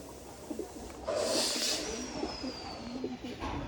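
A pigeon coos in a short, low rolling phrase, close and moderately soft, over a faint background of outdoor noise.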